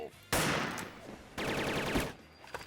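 Gunfire in the online shooter Wolfteam comes as two loud rapid bursts of automatic fire, close and dense, with a brief pause between them and a faint tail afterward.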